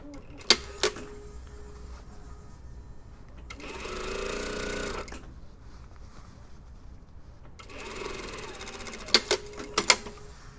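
A sewing machine stitches the seam of a lined, dartless jacket in two bursts of steady, whirring mechanical chatter, close and fairly loud, separated by quieter handling with sharp clicks and knocks.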